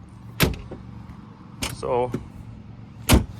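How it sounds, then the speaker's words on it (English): A door handle on a Polaris General UTV pops with a sharp click, followed by a rattling mechanical latch sound and another firm clunk as the door opens. Close, with a brief spoken word. "reach inside and pop the door handle"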